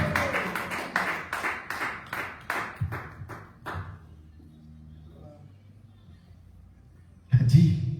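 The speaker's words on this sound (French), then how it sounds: "On acclame l'éternel Dieu." A congregation in a French-speaking church claps in steady rhythmic bursts during worship, fading into near silence before a short loud burst returns at the end.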